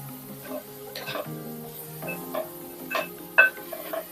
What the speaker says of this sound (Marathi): आता गाजर सुद्धा आपल्याला तुपावरती एक ते दोन मिनिटासाठी शेवई सोबत परतून घ्यायचं आहे